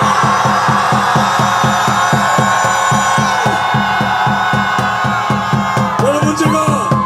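A rally crowd at a Korean political gathering in Dongdaegu shouts together in a sustained, loud roar of cheering and whooping, with steady rhythmic pulses running under it for several seconds.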